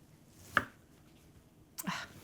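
Two quiet knife cuts through rugelach dough on a board, each a short crisp chop, the second followed by a brief soft scrape, with near-silence between them.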